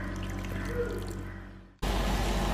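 Water is poured onto jaggery in a pan to melt it, a steady close splashing stream that tapers off and then cuts abruptly to a different background.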